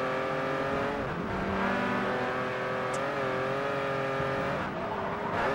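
A race car engine in the Forza Horizon video game revs loud and sustained, its pitch dipping and climbing with shifts and throttle changes, accompanied by a brief high squeal near the middle.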